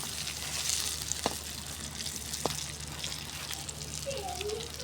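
Pointed gourd (potol) slices frying in hot oil in a home kitchen, a steady close sizzle with a couple of sharp pops and a brief clink, running on continuously without pause.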